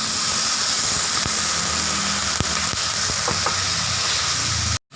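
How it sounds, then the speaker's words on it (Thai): Frog curry paste stir-fried with water in a pan, a loud continuous sizzle and steamy hiss with occasional faint clicks of the utensil, cut off briefly near the end. "ให้เราใส่น้ำลงไปนะครับ เพื่อทำการผัดนะครับ"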